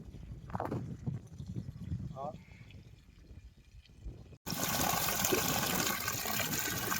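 Water rushes steadily from a 3 HP Shakti solar pump with 70-metre head through a two-inch pipe, loud and continuous in the second half, with quieter outdoor sounds and a little talk before it.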